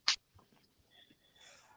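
A single sharp sneeze bursts out close by. Faint breathing and low murmurs follow it.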